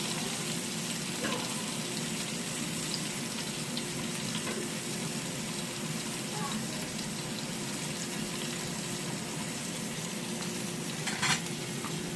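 Bacon sizzles in a pan for a burger, a steady, close hiss with faint crackles running continuously, with one brief louder clatter near the end and no talking.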